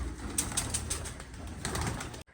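Pigeons or doves cooing indoors in a room, a low, steady murmur of repeated coos with faint higher chirps, fairly close, no talking.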